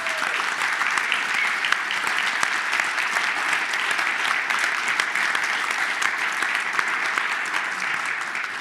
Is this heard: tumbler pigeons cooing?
no